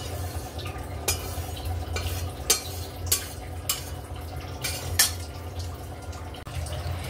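Oats dry-roasted in a pan while being stirred, a soft scraping and rustling close by, punctuated by several sharp spatula taps and clinks against the pan.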